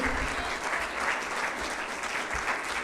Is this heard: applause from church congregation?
yes